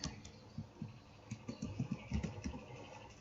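Keys tapped on a computer keyboard while entering data in SPSS statistics software, an irregular run of soft, close clicks and taps with no talking.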